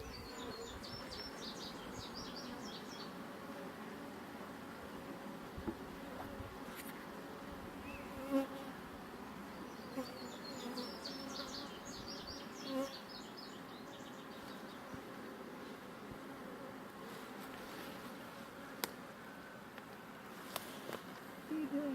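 Honeybees hum steadily around an open hive at a ranch, a soft continuous drone with occasional louder passes close by, while people talk quietly nearby.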